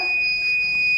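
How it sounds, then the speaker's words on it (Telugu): A women's safety IoT watch sounds its buzzer alarm, a steady piercing electronic tone that holds unbroken through the whole second, loud and close with nothing else heard. "ఈ బజర్స్ నుండి ఫస్ట్ సౌండ్ వస్తుంది."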